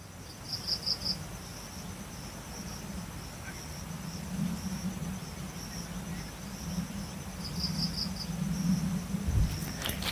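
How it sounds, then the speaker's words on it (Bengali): Crickets chirp steadily across quiet rural Purulia countryside, a faint continuous high trill with occasional louder pulsing bursts over a low hum of ambient background. "চারিদিকে ঝিঁঝি পোকার ডাক,"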